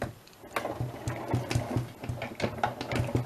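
A Vevor die cutting and embossing machine is wound through by hand, making a quiet, even run of mechanical clicks and soft whirring close by, with no talking.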